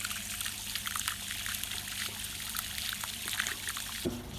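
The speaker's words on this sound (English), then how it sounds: "if I open that valve, the water level drops and pushes all these solids out through the clean out valve" Water draining out through the clean-out valve of a garden pond bog filter, a steady close gushing trickle that runs continuously before a brief knock at the end.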